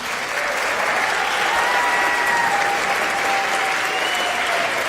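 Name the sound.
applause at school concert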